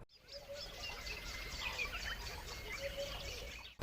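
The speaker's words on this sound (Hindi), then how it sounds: "जब हम शहर से दूर जाते हैं तो हमें पंछियों की चहकने की आवाज़," Birds chirping and calling outdoors away from the city, with short tweets and a few thin whistled notes over a soft background hiss, fairly faint and continuous.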